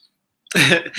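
A single harsh cough or throat-clearing from congestion bursts out close after a moment of silence, followed by a shorter second rasp.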